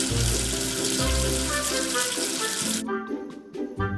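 A strong, steady rush of running water, like a tap pouring into a sink, washes soap away; the flow cuts off near the end, leaving a few clicks and small splashes.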